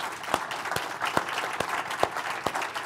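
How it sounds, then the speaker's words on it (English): At a talk on running a global company, listeners give a round of applause. A few sharp, evenly spaced claps stand out over a softer wash of clapping. "How about we give Murph a round of applause?"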